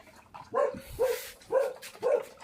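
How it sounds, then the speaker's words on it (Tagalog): A dog barks four times at dinner time in an even rhythm, close and moderately loud, with no talk. "Si Polo yung kumakahol"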